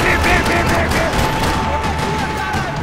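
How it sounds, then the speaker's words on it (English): Sustained gunfire rattles across a parking lot in the video game Max Payne 3, loud dense bursts forming a continuous fusillade over about three seconds. "Parking lot rattling with gunfire."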